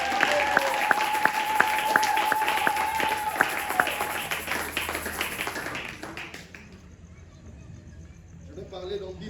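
A church congregation applauding and cheering during a prophetic worship service, steady clapping with voices over it that fades out toward the end.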